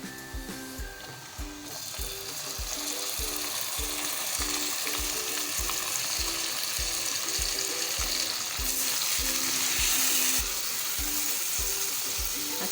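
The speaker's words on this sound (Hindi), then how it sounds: "अब हम इसमें चिकन ऐड कर देंगे।" Chicken frying with golden brown onions in a pan produces a loud continuous sizzle, overlaid by a steady rhythmic thumping from a repetitive background beat.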